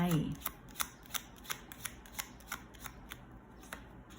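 Tarot cards are shuffled and drawn in a Thai card reading, producing a steady series of crisp, close card snaps roughly every third of a second. A voice is briefly heard at the start.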